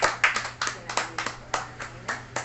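Congregation at a Catholic evangelization gathering claps together in a rhythmic pattern, a dozen sharp, evenly spaced bursts close up.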